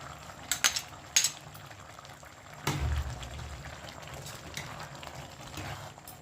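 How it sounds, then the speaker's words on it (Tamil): Beef boti curry bubbling and simmering steadily in a pot at close range, with a soft continuous hiss and a couple of brief clinks near the start. "வதக்கி இது மாதிரி நல்லா கொதிக்க வச்சுக்கோங்க."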